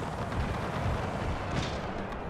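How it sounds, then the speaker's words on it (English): Round shot from 6-pounder cannons booms across a Napoleonic battlefield in the strategy game Napoleon, a dense rumble of overlapping artillery fire and impacts. "I can see shots landing, but it's the round shots from the 6-pounder"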